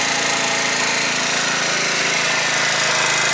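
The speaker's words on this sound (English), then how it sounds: "Kind of rattling coming from the muffler." A 2012 Tao Tao scooter engine runs loud and close with a steady, buzzing drone, its muffler heat shield rattling continuously over the exhaust note.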